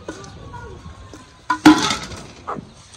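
Peanuts, cumin and white mustard seeds land in a hot cooking pot with a sharp clatter and a burst of sizzling that fades, followed by a softer knock, with a quiet voice in the background.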